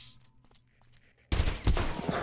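Bursts of rapid gunfire from Ahriman, a Far Cry-style first-person shooter, break out loud and dense after a quiet moment, with overlapping shots filling the rest of the clip.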